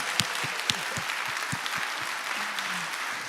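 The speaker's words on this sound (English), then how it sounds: "Give our field crews a round of applause." Audience applause for field crews at the All In For Kids 2022 fundraiser, steady clapping from a fair-sized crowd with a few sharper claps near the start, a faint voice briefly audible partway through.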